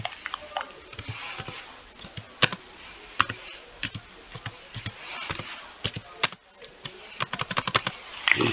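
Quick, uneven keystrokes tap on a computer keyboard up close, with clusters of clicks and short pauses and faint background hiss.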